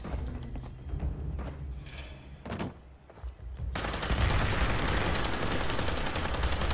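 Heavy gunfire in Fallout 76 player-versus-player combat from a shooter on a roof: scattered thuds and shots first, then a sudden, sustained loud barrage of rapid automatic fire that continues to the end.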